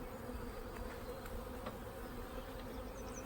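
Dense, steady buzzing of many honeybees up close on a hive frame, a continuous low hum with no voices.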